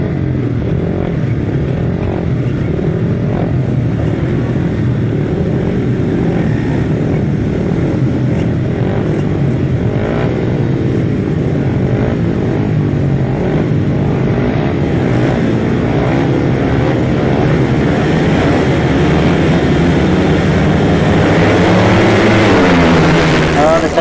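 Grasstrack racing motorcycles roar off the start in a steady, loud, continuous engine drone that rises in pitch toward the end, with commentary talk over it.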